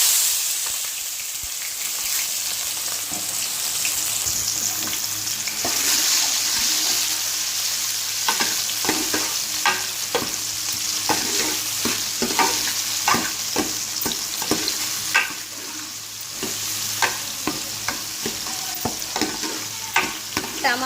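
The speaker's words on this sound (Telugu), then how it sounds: "తాలింపు వేసేసుకున్నాను." Tempering spices sizzle steadily in hot oil in a home kitchen while a spoon stirs, with frequent scraping clicks over the continuous frying hiss.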